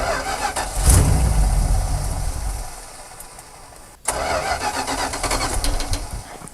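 A tired-sounding starter cranks an abandoned Dodge Power Wagon service truck with a carburetor problem, a loud rough burst near the start that fades, then a sharp restart at about four seconds into steady running, no talk.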